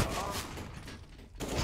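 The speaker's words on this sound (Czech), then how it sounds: "Tady ale slyší hráči týmu RNS Marvo jasné výstřely z Nubíkova Fomasu." A burst of rapid gunfire in a competitive video game match rattles loudly, pauses briefly, then resumes, with a commentator talking over it.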